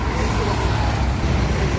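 A Putra Pelangi bus travels along the road toward Bogor, filling the space with a steady, loud rumble of engine and road noise that continues unbroken throughout.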